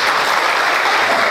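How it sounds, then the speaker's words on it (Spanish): Theater audience at the Teatro Municipal applauding the guitarist, a loud, close, dense burst of clapping filling the whole short moment without a break. "un aplauso para él"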